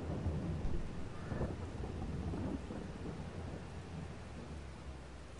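Rain and thunder fill a farming video game, with a low rolling thunder rumble early on over a continuous steady rain hiss that gradually eases, and no voices.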